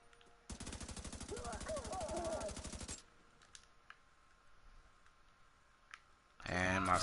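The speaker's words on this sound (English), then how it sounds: "Now my gun is shooting. I don't know if you can hear it, but it's shooting by itself." An automatic gun in the video game Destiny 2 fires on its own in a rapid, evenly spaced burst of shots lasting a few seconds, followed by quieter game sounds and a short loud burst at the end.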